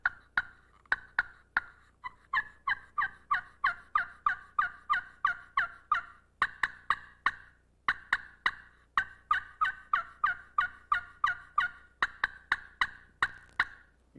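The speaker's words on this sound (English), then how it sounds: "This call is really authentic and makes a lot of sounds of the hen turkey." A hen turkey call worked on a Little Deuce glass friction call gives a long run of sharp, high-pitched yelps and clucks in quick rhythmic bursts, clear and close, with brief pauses between series.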